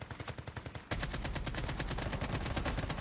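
Call of Duty gunfire in quick repeated bursts: a few spaced shots at first, then a loud, continuous stream of rapid automatic fire close up with no talk over it.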